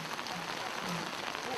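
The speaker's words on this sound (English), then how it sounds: "Strong monsoon rain isn't stopping these residents in this Saemaul pilot village from constructing a drainage system" Strong monsoon rain pours steadily over a village where residents are building a drainage system, a dense, even hiss of falling water without pause.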